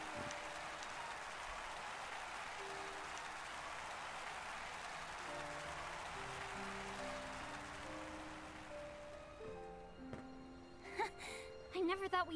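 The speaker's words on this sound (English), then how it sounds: "Their performance finished, the pair left the stage, to the sound of thundering applause." Thundering applause fills a theatre after a stage performance in Octopath Traveler 2, a dense steady clapping wash that holds for most of the stretch before fading into scattered musical tones.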